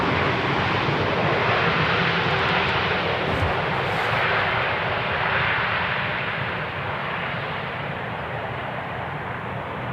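A plane landing on runway 18R at Amsterdam Schiphol Airport makes a loud, steady engine roar. It stays broad and continuous across the whole stretch, easing off slightly near the end as it passes.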